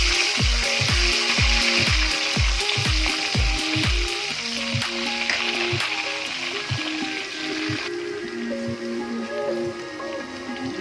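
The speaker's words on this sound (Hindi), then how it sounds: "अभी हम इसमें तेज पत्ता और दालचीनी मिला देंगे और साथ ही हम इसमें लहसुन का पेस्ट है वो शामिल कर देंगे।" Bay leaf, cinnamon and garlic paste frying in hot oil in a kadai, a steady loud sizzle with crackling and clinks of a utensil stirring throughout, no talking.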